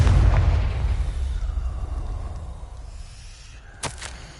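A Confringo explosive spell in Hogwarts Legacy on PS5 sets off a deep, loud blast whose rumble fades away over a few seconds, ending with a brief crackling burst, with no speech.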